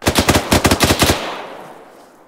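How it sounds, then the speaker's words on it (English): Heavy automatic gunfire in the military video game Arma 3: a rapid burst of about ten loud, close shots in quick rhythm, followed by a long echoing tail that fades out, with no talk. "We're taking some heavy fire from our southwest down this hill."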